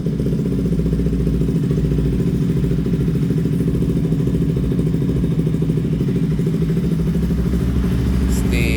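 A Bajaj Pulsar RS200 motorcycle engine with a faulty stator runs steadily close by, a loud low rumbling idle with mechanical clatter, continuous throughout.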